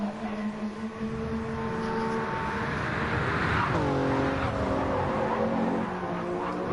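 GTE race cars in the game Gran Turismo 7 on High Speed Ring, engines droning loudly and continuously, pitch sliding down as they brake into a corner, then climbing again on the exit.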